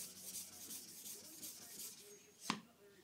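A sharpening stone is rubbed in quick, rhythmic passes across a milled diamond plate with water, a soft repeated scraping, close and quiet, ending with a single sharp tap.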